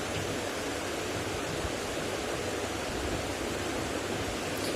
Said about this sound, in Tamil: தண்ணி இப்போ கொதிக்குது.